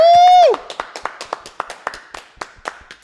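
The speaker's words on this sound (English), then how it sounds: "So round of applause, guys." A short whistle-like tone, then a small group claps unevenly for a couple of seconds on a podcast, the claps light and scattered.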